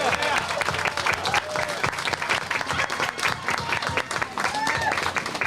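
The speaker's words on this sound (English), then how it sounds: "Can you join me in giving him one more big round of applause?" An outdoor audience at a Veterans Day parade opening ceremony breaks into sustained, dense clapping and cheering that stays loud throughout.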